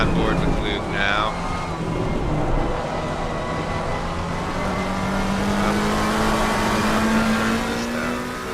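Onboard engine of an orange McLaren in a racing video game at the Hungaroring, a loud steady drone whose pitch climbs slowly as it accelerates, with a voice talking over it.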